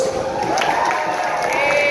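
At a Beto O'Rourke rally in Edinburg, Texas, a crowd cheers for the mariachis in a dense, continuous roar of cheers, whoops and whistles.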